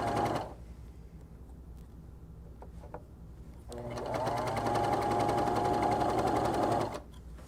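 A serger overlock sewing machine stitches along a fabric edge, starting with quiet clicks and handling, then running in a steady, fast, close whir for about three seconds before stopping.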